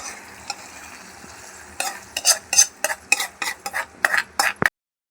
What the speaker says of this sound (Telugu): ఇప్పుడు ఇందులో పోపు వేసుకోవాలి